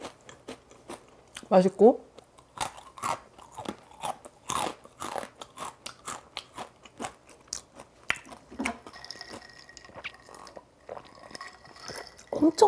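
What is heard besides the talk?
crunchy Blue Takis chips being eaten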